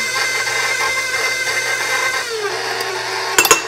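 Mascarpone cream is beaten with powdered sugar, giving a steady, loud mixing whir that runs without a break and ends in a few short rattling knocks.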